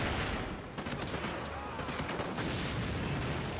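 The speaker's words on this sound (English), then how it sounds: "Just gonna throw a grenade." A grenade goes off in the Call of Duty Ghosts campaign mission Clockwork amid steady gunfire, a dense stretch of rumbling blasts and rattling shots that stays loud throughout.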